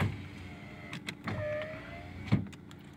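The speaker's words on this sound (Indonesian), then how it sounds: "power window semuanya masih oke okay" Power windows on a used Mazda car whirring up and down in a few short motor runs with clicks as they stop, heard close and with no talk.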